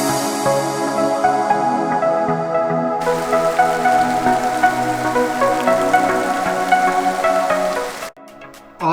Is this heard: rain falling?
yes